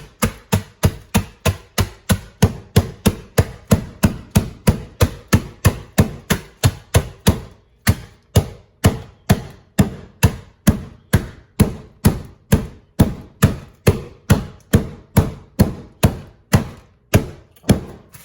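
Bread being broken up by hand for a jerk BBQ meatloaf, heard as a steady run of close, evenly spaced crisp tearing and crumbling strokes, dozens in a row with no talking.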